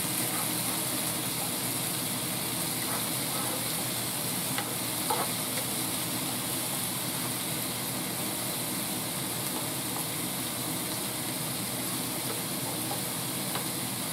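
Beef stew meat sears and sizzles in a pan as it is stirred around, a steady close frying hiss running without a break, with faint scrapes and clicks, and no talking.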